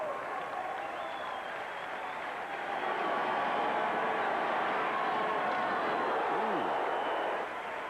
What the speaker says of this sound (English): you listen to the crowd and the hit on the field